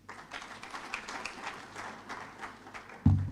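Scattered audience clapping for a professor at a Kyambogo University freshers' orientation, a loose patter of hands at moderate distance, ending in a sudden loud thump near the close.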